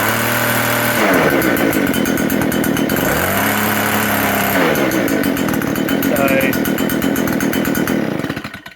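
A small two-stroke leaf blower engine being tested after repair, its loud buzzing snarl revving up and down several times before cutting out at the end, with a voice talking briefly over it.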